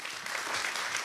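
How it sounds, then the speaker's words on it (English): Dense, steady applause from an audience after a Sanskrit and Indian classical music performance, a broad crowd of clapping hands filling the brief moment. "I would request everyone to please give a round of applause again."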